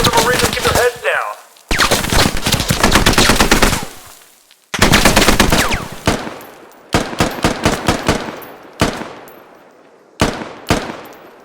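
Automatic and single-shot gunfire in the military shooter game Squad: long dense bursts of loud, close fire give way to spaced single cracks with echoing tails.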